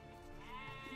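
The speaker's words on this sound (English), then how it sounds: "Already got two sheep right off the bat." Sheep bleating in a real-time strategy game, a single sustained, fairly quiet bleat heard alone without talk.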